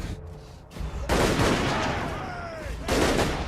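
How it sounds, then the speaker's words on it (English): Heavy artillery fire in a Total War: Warhammer battle with Empire forces, loud dense booms and crackling volleys in two bursts, alone with no talk. "So the Empire's fielding a lot of artillery in this battle"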